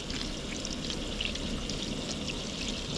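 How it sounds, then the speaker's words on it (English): Water pours and splashes messily while being boiled at a cabin cookout, making a continuous close rushing trickle with small spatters throughout. "I'm getting water everywhere."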